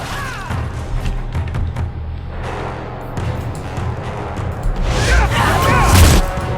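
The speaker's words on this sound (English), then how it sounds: "Explosion." Explosion in the video game Dragon Age 2: a heavy booming blast with crashing debris that swells near the end over game sounds and a voice.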